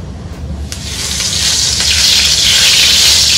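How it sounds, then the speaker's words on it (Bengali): Cumin seeds sizzle in hot oil as the tempering for a Bangladeshi fish curry, a steady hiss that starts quiet and swells louder and fuller, close up and continuous with no talk. "মাছের ঝোলটার জন্য এখন আমি জিরা ফোড়ন দেব"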